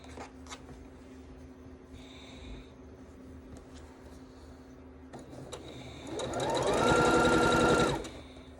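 A sewing machine stitches two quilt strips together for a heart block, starting as a steady, fairly loud whirring run partway through after quieter handling sounds.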